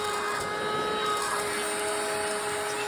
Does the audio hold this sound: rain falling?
no